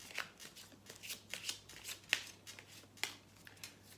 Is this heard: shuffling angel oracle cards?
yes